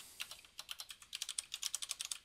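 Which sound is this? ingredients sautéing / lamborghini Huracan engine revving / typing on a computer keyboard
typing on a computer keyboard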